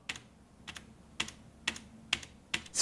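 Keys clack on a foldable mechanical keyboard with red switches in slow, evenly spaced presses, about six sharp clicks, close and quiet with no talk.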